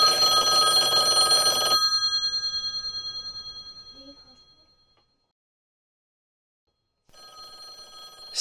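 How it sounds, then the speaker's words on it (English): Old-fashioned telephone bell ringing on stage in a performance of An Inspector Calls: a loud continuous ring that cuts off and fades into silence, then a brief second ring starts near the end. "hesitantly waddles over to answer the phone"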